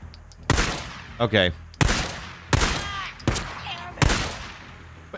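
Gunfire in the Days Gone video game: five loud, sharp shots spaced about a second apart, each with a ringing tail, while a voice speaks briefly between them.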